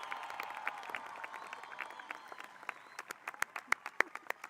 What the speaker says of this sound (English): Please give these graduates one more round of applause